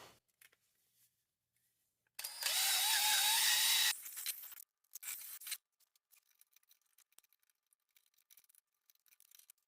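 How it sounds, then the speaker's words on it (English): A quiet setting broken by a short burst of harsh whirring and scraping from a power drill with a steel wire brush cleaning riding mower brake parts, followed by lighter scuffs. "What I'm going to use to do that is just my drill motor with a steel brush."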